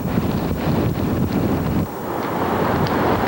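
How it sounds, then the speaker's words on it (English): Strong wind gusting up to 30 miles per hour roars across the microphone on the Jersey Shore, a dense, continuous rush, briefly easing near the middle before gusting back up; no one speaks. "wind gusts up to 30 miles per hour created an ominous scene along the Jersey Shore"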